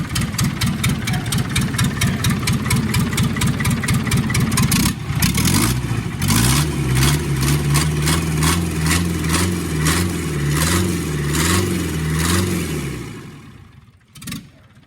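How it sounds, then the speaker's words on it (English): A 2.5-litre naturally aspirated diesel engine in a Land Rover Series 3, not started in eight years, cranks and catches, then runs with a loud, rhythmic clatter and rising hum before cutting off near the end. "We have a running engine."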